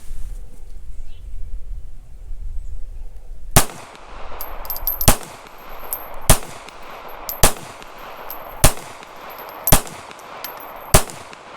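A Taurus Spectrum .380 ACP pistol fires seven loud, sharp shots at a fairly even pace of about one per second, with a quiet stretch of handling noise before the first shot.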